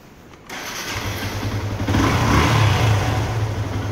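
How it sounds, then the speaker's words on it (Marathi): A motorcycle engine starts with a sharp burst, then settles into a steady idle and builds into a louder rev, close to the microphone with no talking, at the start of a motovlog ride along the Mumbai–Goa route toward Dapoli in Konkan. "चला गाडीला स्टार्टर मारतो."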